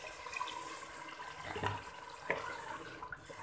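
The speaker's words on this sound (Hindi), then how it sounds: "थोड़ा सा पानी शामिल करेंगे" Water pours into a pot of black chana curry, a faint continuous splashing trickle with no talk over it.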